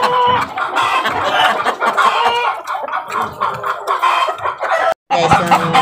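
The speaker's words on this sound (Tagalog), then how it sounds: "nagpapatatat na naman yung aking mga inahin" Backyard hens and a rooster cluck loudly and continuously at close range, with overlapping clucks and squawks from several birds and no talking.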